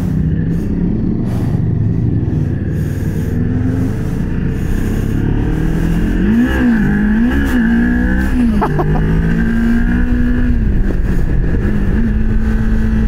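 A Thrike Xcape motorcycle on a test ride, its engine loud and close with rising and falling revs as it accelerates through several gear changes, wind rushing over it throughout.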